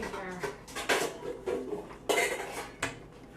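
Clattering ceramic dishes and clinking cutlery in a home kitchen as a mixing bowl is pulled out from among them, several sharp knocks and rattles in irregular bursts.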